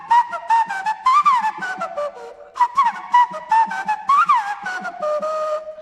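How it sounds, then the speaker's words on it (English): A tin whistle plays a lively melody of quick ornamented notes and short phrases, clear and close, with no talking. "A great man to play the tin whistle."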